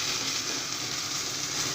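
Chopped green chillies and tomato sizzle steadily in a frying pan with fried onions, a constant close hiss of frying oil without pauses.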